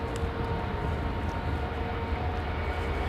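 An Air China Boeing 747-8i with GEnx engines departing, a steady, broad jet roar with a faint whine, heard at a distance without any voices.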